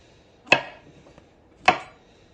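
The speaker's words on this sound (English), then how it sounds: "And now it's time to chop the mushrooms." Two sharp, distinct knife strikes about a second apart as mushrooms are cut in half on a cutting board, each a crisp close thunk with a quick decay and quiet in between.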